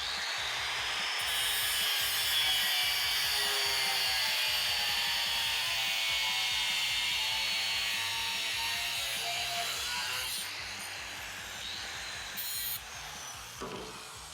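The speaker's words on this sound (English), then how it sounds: "I'm gonna cut that tang off first." A power tool grinds through the tang of an old steel file with a continuous high-pitched whine and buzzing motor, loud and close throughout, easing off near the end with a few small knocks.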